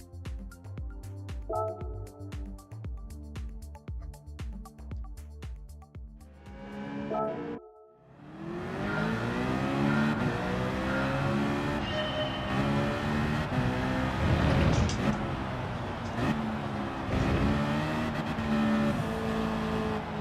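Citroen race car in Gran Turismo 7, its engine note surging and shifting steadily at high revs after a brief rhythmic clatter and a short gap, loud and continuous with no talk.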